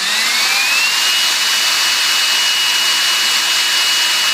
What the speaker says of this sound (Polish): Załączamy odkurzacz po założeniu akumulatorków nowych i co się dzieje?